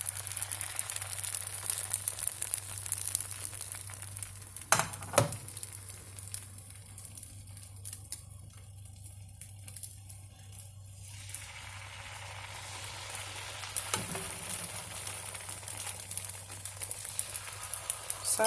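Vegan coconut crepe batter cooks in a hot pan with a soft, steady sizzle, broken by a few brief scraping clicks as the batter is spread, then settling into quieter frying.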